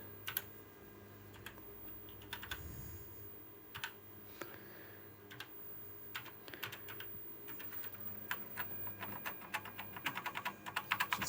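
Keys clack on an Ohio Scientific Superboard II (OSI 600 Rev B) keyboard during a repair, including presses of its Break key. Scattered single taps build into quicker, louder bursts near the end, close and with no talk.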